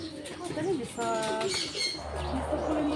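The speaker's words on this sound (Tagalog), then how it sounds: "yung mga kalapati" Pigeons coo softly at close range at a butterfly sanctuary in Bohol, Philippines, with a few chirps and wing flutters while people talk nearby.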